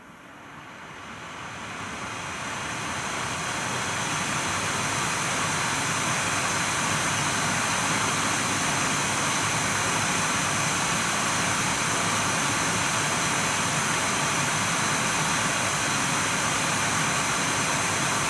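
An Nvidia GTX 980 reference graphics card's cooling fan spins at 100% speed, a steady, loud broadband whoosh with a high-pitched whine that swells over the first couple of seconds, then holds constant.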